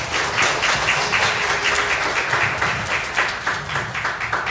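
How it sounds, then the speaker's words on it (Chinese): Warm audience applause at an event in Singapore, many hands clapping in a steady, sustained wash at moderate loudness, with faint voices mixed in the crowd noise throughout. "那我们再一次以最热烈的掌声来感谢莫师凤无私的分享"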